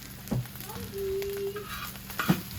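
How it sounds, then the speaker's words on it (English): Egg scrambled and sizzling in a frying pan as part of wild duck fried rice, a quiet crackle under a steady fry with a couple of brief scraping stirs and a faint low hum. "you just want to kind of scramble that up right inside the pan"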